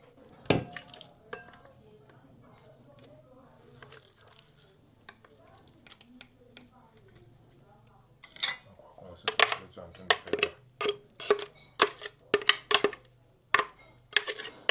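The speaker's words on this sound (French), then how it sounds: "L'objectif ici étant juste d'hacher finement les champignons" Mushrooms being finely chopped, a quiet stretch with scattered taps, then a run of sharp, rhythmic knocks against a board, close and distinct.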